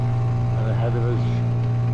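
A sailboat's auxiliary engine drones steadily under heavy load while pushing against the tide through a buoyed channel, a constant low hum running loud throughout with a brief voice-like murmur over it.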